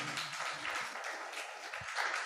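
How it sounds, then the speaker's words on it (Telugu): A church congregation claps together during a special prayer meeting. A dense, steady patter of many hands sounds fairly distant and soft, with no clear talk over it. "చప్పట్లు కొట్టండి గట్టిగా."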